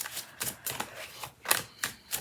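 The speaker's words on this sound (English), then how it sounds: "I always like to do a little bit of shuffling" Tarot cards are shuffled by hand in short crisp riffling bursts, about six quick rhythmic swishes close to the microphone, moderately loud with no speech.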